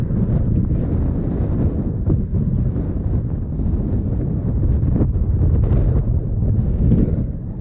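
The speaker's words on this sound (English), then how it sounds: "Super windy, so it's going to be kind of tough," Strong gusting wind at a lake buffets the microphone with a constant heavy low roar, loud and steady throughout, with no voices.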